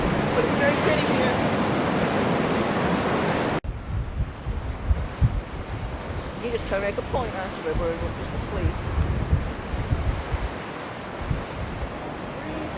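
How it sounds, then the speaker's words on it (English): Strong wind buffeting the microphone and surf crashing at Southwold pier in Suffolk, a loud constant roar that eases after a few seconds to rolling waves, with a person talking over it. "Lots of wind, lots of surf, but it's very pretty here."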